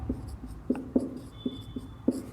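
Writing on a board during a biology lesson: a sparse series of short, distinct taps and strokes, faint and close, irregularly spaced with brief gaps, with no talking.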